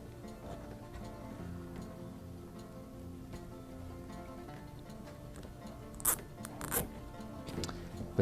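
A plastic zip tie is pulled tight against ribbon on a wreath base: a couple of short, sharp ratcheting bursts near the end, close and fairly quiet, over a low rustling background with no talk.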